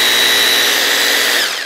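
An electric concrete hammer drill, a three-function model, runs loud and close with a steady high-pitched whine, then begins to wind down at the end.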